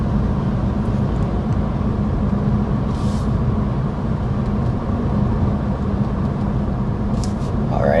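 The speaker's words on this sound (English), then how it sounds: "All right, so we are going 55 miles an hour for our sound level reading." Cabin of a 2025 Mini Cooper S Convertible cruising at 55 mph, a constant low road and wind rumble filling the interior while people talk over it.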